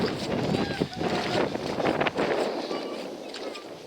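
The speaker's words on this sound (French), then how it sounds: "j'espère que le vent c'est pas trop dérangeant." Wind buffets a microphone outdoors on a grey day's walk in Brittany, a loud, continuous rumbling roar with gusty swells that eases slightly toward the end.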